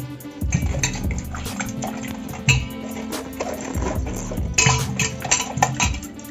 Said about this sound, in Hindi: इसको पानी में धो लेंगे।